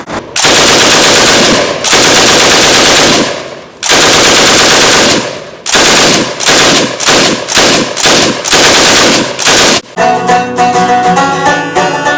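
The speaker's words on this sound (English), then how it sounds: "So that building was saturated with fire from Lewis guns." Lewis machine guns firing in long, loud bursts separated by brief gaps, a dense rattling chatter of rapid shots, with a quieter ringing tail at the end.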